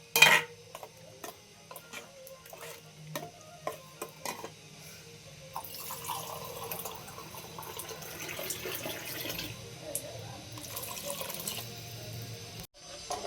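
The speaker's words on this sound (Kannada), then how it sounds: "ನಾನು ಇಷ್ಟು ಮಾಡೋಕ್ಕೆ 6 ಗ್ಲಾಸ್ ನೀರು ಹಾಕ್ಕೊಂಡಿದ್ದೀನಿ" Water poured into a vessel to make a neem-and-jaggery bevu bella drink, a soft steady splashing stream building after a few light clinks at the start, close and quiet.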